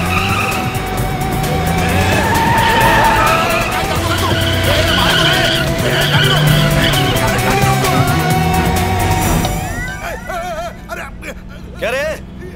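A car skids with squealing tyres while being parked, loud and close, then fades, leaving brief sharper squeaks and scattered noise; voices and background chatter run underneath.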